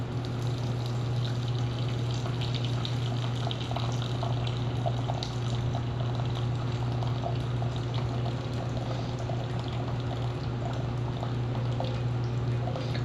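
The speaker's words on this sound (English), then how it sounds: "So now I'm going to use this to strain the liquid out." Liquid strained out of a camping survival cup at a woodland campsite, a steady continuous pouring trickle lasting several seconds, close and moderately loud with no talk.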